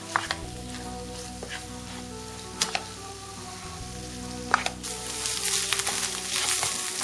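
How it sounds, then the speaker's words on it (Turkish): Minced meat frying in a pan after onions, a steady low sizzle with a few stirring scrapes and clinks, growing a little brighter and louder toward the end, no voices. "Kıymada suyunu bırakıp çekene kadar kavrulacak"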